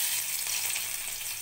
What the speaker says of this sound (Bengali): এবার আমি তেলের মধ্যে ফোড়নে দিয়ে দিচ্ছি একটা শুকনো লঙ্কা